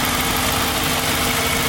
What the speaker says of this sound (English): I started up the engine.